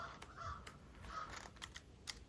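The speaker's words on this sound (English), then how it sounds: "The crows say good morning" Crows caw somewhere outdoors, a few faint, distant calls spread across a quiet background along with sharp light clicks.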